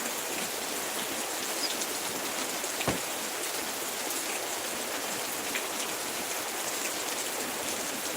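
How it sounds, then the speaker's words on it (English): Steady rain falls outdoors in an even, dense hiss that continues throughout, with one brief thump partway through and no voices. "now it's raining"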